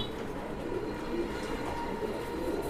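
Desi, Pakistani and Indian flying pigeons kept for sale coo softly and faintly in a few low, rolling calls against a steady background hum, with no voice.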